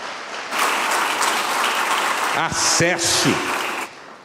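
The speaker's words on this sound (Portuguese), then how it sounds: "E pode aplaudir ao Senhor, porque isso é bênção na nossa vida." Applause from a church congregation fills the room for several seconds, broad and steady, while a voice speaks briefly over it partway through.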